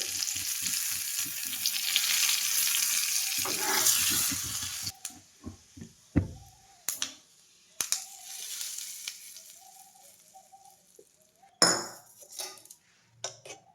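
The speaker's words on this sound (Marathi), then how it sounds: "त्याच्यामध्ये हे तूप टाकलेले उपवासाला जिरं चालतं त्यामुळे जिरं घेतलेले" Cumin seeds tempering in hot ghee in a small tadka pan, a loud steady sizzle for the first few seconds, then quieter crackles broken by sharp clinks of a metal spoon against the pan.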